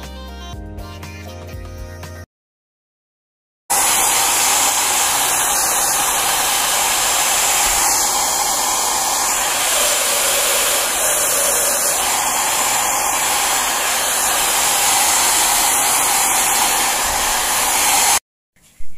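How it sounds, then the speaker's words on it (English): A hair dryer, used to dry paint on a painting, roars loudly and steadily for a long stretch, a constant breathy whoosh, preceded by a brief burst of music. "Now bring out the blow dryer because I'm super impatient."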